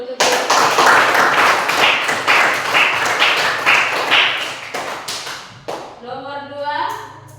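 A classroom full of people clapping together, a dense burst of applause for several seconds that thins out near the end as voices begin.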